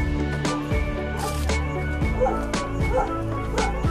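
Several dog barks and yips ring out close by in an irregular rhythm, with voices murmuring underneath.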